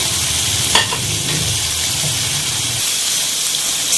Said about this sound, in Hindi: अब हम इसको यहाँ पे दही डाल के भी अच्छी तरह से भूनेंगे।